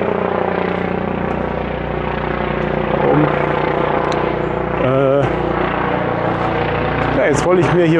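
A helicopter flies overhead with a steady rumbling drone outdoors, while someone talks in the foreground and other voices and street noise mix in.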